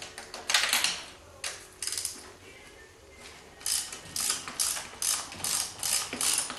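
A ratchet wrench with a 9/16 socket on a 3-inch extension works loose fuel pump bolts, giving close, crisp bursts of rapid clicking separated by short pauses, growing more frequent toward the end.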